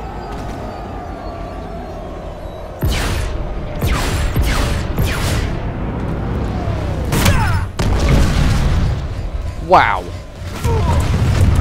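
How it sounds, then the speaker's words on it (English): Heavy booming crashes and metallic impacts of a ship coming down in Planetside 2, a series of loud thuds over a running engine-like drone, with a voice briefly exclaiming. "Just crash your ship on my head, why don't you?"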